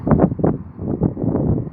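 Strong wind in Shropshire buffets the microphone at a railway station in rough, low gusts, rumbling continuously with surges every fraction of a second.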